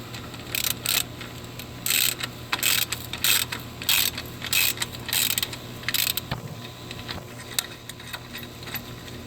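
A ratchet wrench loosens a 13 mm bolt on the front engine brace near the oil pan of a 2013 Dodge Dart 1.4L, heard as a close series of quick, crisp clicking bursts with short pauses between strokes.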